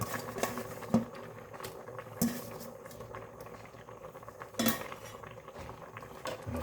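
A utensil scrapes and clinks against a pot as Thai mushroom curry with betel leaves is stirred, with a few sharper knocks over a soft simmering bubble in the background.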